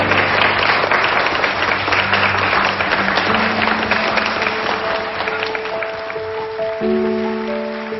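Guests at a wedding ceremony applaud as the newlyweds enter, a dense and steady wash of clapping from a crowd with sustained music tones rising beneath it.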